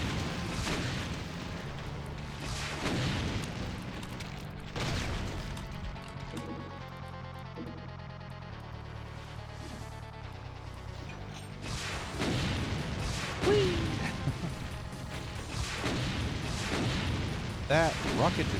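Rockets fire and explode in Doom with the Brutal Mod, heavy booms bursting repeatedly over game music and mechanical noise, with someone talking through much of it.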